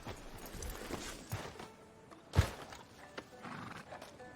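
A horse in Red Dead Redemption snorting and whinnying with occasional hoof clops, close and fairly quiet, one sharp thud standing out midway.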